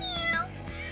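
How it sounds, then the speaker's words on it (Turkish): A cat meows a few times in quick succession, close and fairly clear, with no one talking. "Miyavlama mı duyuyorum?"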